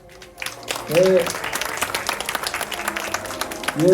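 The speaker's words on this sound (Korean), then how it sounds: "박수" An audience applauding at a children's reading essay award ceremony in Busan, a continuous patter of many hands clapping, with an amplified voice speaking over the start and end.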